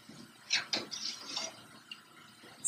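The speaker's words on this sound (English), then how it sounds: "Let the water run off." Water dripping and trickling off a waterjet-cut sheet pulled from the cutting tank, with a few brighter splashes and drips over a quiet workshop background.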